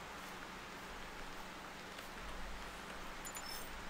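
Steady rain falling in the hunting game The Hunter Primal, a constant broadband hiss of drops with a low rumble underneath, even and unbroken throughout.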